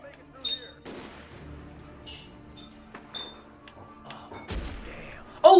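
Scattered gunshots from police in the video game Alan Wake crack out at irregular intervals, a few sharp thumps and pops among faint clinks and game noise, with a louder burst near the end.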